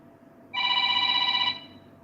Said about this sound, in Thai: FC แอดขออนุญาตรับโทรศัพท์แป๊บนึงนะคะ